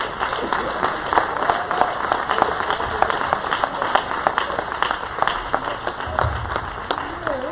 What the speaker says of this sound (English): give Sister Nitra Christian a hand clap of praise